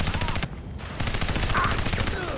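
Rapid pistol gunfire in the shooter video game Crysis Warhead, a dense string of quick shots close up with a brief gap, set against game combat noise.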